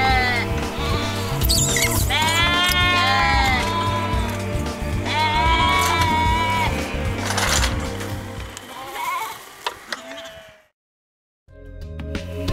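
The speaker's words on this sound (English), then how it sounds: "Here we are tailing lambs at 30 days of age, born to ewe lambs at pasture." Ewes and thirty-day-old lambs bleat repeatedly at pasture during tailing, loud, close and overlapping over a steady low background hum, with a brief silent gap near the end.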